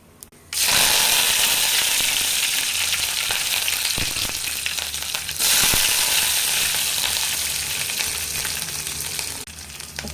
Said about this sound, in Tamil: பச்சை மிளகா வதங்கிருச்சு